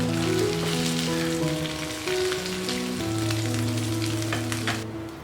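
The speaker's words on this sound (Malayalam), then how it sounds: "ബാക്കിയുള്ള മീൻ നമുക്ക് ഇതുപോലെ തന്നെ വറുത്തെടുക്കാം" Sardines fry in hot oil with a dense, steady sizzle and crackle that stays loud and even, while a soft melodic tone plays underneath.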